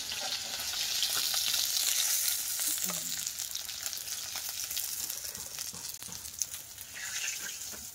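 Belly pieces and a tail piece of a large pond-caught katla fish fry in a pan, with steady loud broadband sizzling and oil spattering throughout, close by, with no talking.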